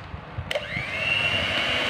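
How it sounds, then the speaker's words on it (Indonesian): An electric hand mixer starts up and runs steadily at low speed, whirring through dragon fruit sponge cake batter for a steamed cake, with a constant motor hum close by. "Lalu mau Bunda mixer sebentar saja ya."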